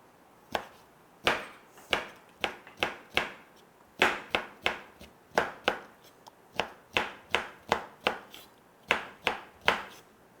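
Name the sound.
knife slicing pickled cucumbers (oiji)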